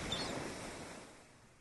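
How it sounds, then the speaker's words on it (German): Ocean waves washing up onto the shore in the video game Voices from the Sea, a soft, steady broadband surf wash that slowly fades, heard alone without talk. "Das Geräusch, das sie machen, wenn sie ans Ufer kommen."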